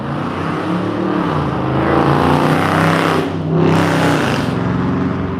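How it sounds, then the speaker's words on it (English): Loud car passing by on a San Diego street, a throaty engine roar that swells, dips as the car goes past, then rises again briefly, close and alone without talking. "That car is loud AF."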